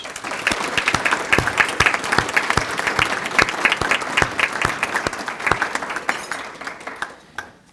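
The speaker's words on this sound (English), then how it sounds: "I want us to give them a round of applause" Guests at a centennial awards luncheon give a round of applause, brisk individual claps standing out in a lively room-filling burst that carries for several seconds before fading quickly.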